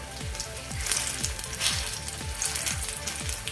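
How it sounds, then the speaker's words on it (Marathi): Koki flatbread patties sizzle steadily in hot ghee, a close, continuous crackling fry with soft pops and no talking. "तूप गरम झाले आता या तुपावर आपण हा एक एक चपटा वडा भाजून घेऊयात"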